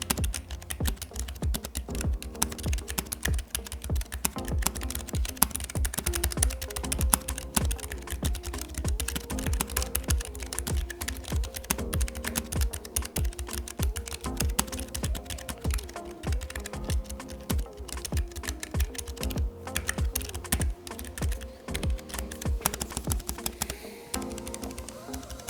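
Steady, continuous typing on a Keychron K3 wireless low-profile mechanical keyboard, with quick, light key clicks over soft background music.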